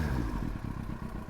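A warmed-up Yamaha R1 motorcycle idles close by with a low, steady, throbbing engine rumble and slight uneven pulsing over a brief moment, no voices.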